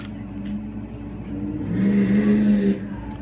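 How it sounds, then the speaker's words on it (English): A truck passes by outside, a muffled engine rumble swelling to a louder rushing peak, then fading, heard indoors without talk. "That was a truck outside."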